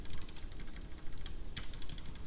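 Computer keyboard keys clatter in quick, irregular taps, one sharper press standing out, close and moderately loud, without speech.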